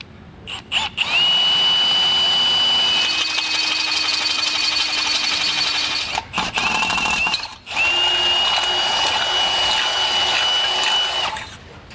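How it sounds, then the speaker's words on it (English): A power drill runs a larger bit through the base plate during a Roadmaster Direct-Connect base plate install on a 2022 Jeep Wrangler, giving a loud, steady high whine in long runs with a couple of brief stops and restarts. "So now that I've passed my smaller bit through, I'm going to go ahead with my larger one and just go ahead and do the same thing."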